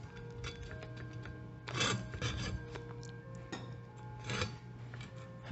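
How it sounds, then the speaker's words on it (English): Hacksaw cutting through metal while making a pull ring for an antique lantern, a few short rasping strokes in bursts over a steady background hum, close and fairly quiet. "I'm going to take my hacksaw and just cut through the first piece"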